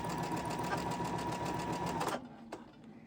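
A sewing machine stitches fabric in a fast, steady whir, running continuously before stopping abruptly, followed by a single faint click in the quiet.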